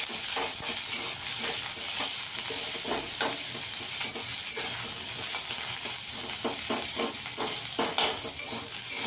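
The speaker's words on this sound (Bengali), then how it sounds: "পেঁয়াজটাও দিয়ে দেবো, দিয়ে একটু ভেজে নেবো হালকা করে সব।" Chopped garlic and onion sizzle and fry in a pan for a kudli (taro stem) mash, a steady bright hiss with intermittent scraping and stirring clatter of a utensil against the pan, close and continuous.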